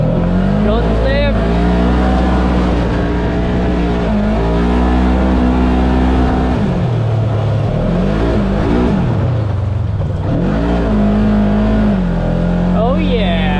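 A Polaris UTV engine runs at full throttle, a loud, steady roar that rises and dips as the machine slides and turns along a rocky shore, with revs falling away briefly near the middle before climbing again.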